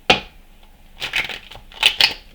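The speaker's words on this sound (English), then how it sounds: "Whoa, these cards do not want to shuffle." Tarot cards being shuffled in a few quick riffling bursts, crisp and close, separated by short pauses, with no voices.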